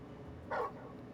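Torgal, the wolf-dog companion in Final Fantasy XVI, gives a single short, sharp bark over a low, steady game background hum.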